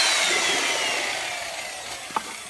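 A power drill whirs in a bucket of concrete overlay mix, a steady grinding drone that gradually fades, ending with a brief knock.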